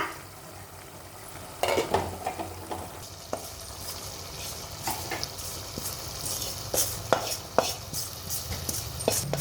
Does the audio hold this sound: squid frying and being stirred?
yes